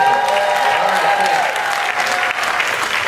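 Applause from a comedy show audience aboard a cruise, loud and steady clapping with some crowd noise and a voice briefly audible over it.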